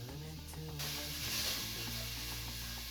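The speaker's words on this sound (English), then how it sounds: "So we just want to cook the bacon for a few moments, just until it begins going a little bit crispy and brown around the edges." Bacon frying in a pan, a steady soft sizzle and hiss with light crackle, faint and continuous, alone with no talking.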